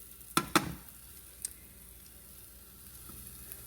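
Ham frying in a pan at a breakfast stove, a faint low sizzle with a couple of sharp pops and clicks early on, then a quiet steady hiss.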